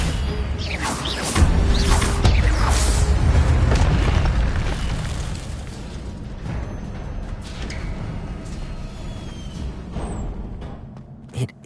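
Fiery Incendio spell cast in the Hogwarts Legacy PS5 game: a loud booming whoosh and roar of flames that swells early, then rumbles and crackles down over several seconds amid game effects.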